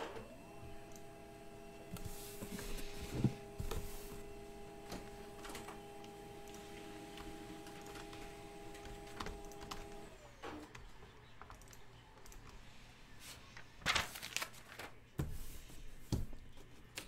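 A printer runs for about ten seconds with a steady mechanical whine and clicking feed noises, then stops, leaving faint handling clatter, heard fairly quietly with no talking.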